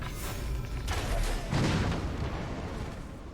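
Grog barrel explosions in the Middle-earth: Shadow of War video game go off as a loud cluster of heavy booming blasts, one after another, with dense rumbling debris and crackle trailing away.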